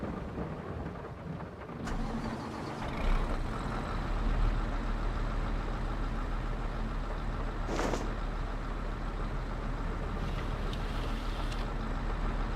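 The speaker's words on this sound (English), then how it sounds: "Start the engine." A modded vehicle in a video game starts up, then its engine settles into a steady low rumbling idle that runs on continuously, with a couple of brief clicks and a louder burst partway through.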